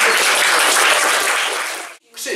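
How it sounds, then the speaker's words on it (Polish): An audience at a magician's show bursts into loud, close applause, many hands clapping densely for about two seconds before it cuts off abruptly and a voice begins to speak. "Dajcie duże brawa."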